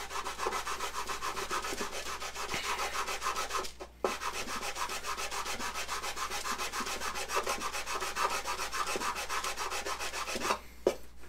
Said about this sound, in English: And I take my sanding block.